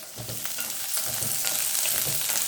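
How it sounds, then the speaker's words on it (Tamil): Onions sauté in a pan for a mutton kheema urundai gravy, a continuous close sizzle with soft scraping and stirring scuffs, no voices. "வெங்காயம் இதை வதக்கிடலாம்"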